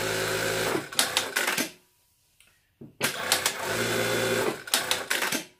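A Juki DDL-9000B-SS industrial lockstitch sewing machine runs in short, steady bursts of fast stitching, each about a second or two long, with a near-silent pause in the middle and a light mechanical whir between runs.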